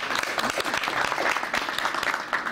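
Crowd applause at an MMA event greeting fighter Kornel Zapadka before the main bout, with many hands clapping in a steady dense patter from a large audience.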